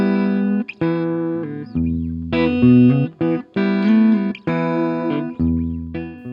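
Electric guitar played through a Supro Delta King 12 amp, driven and gritty, chords and riffs ringing with sustain and brief pauses between phrases, no talking.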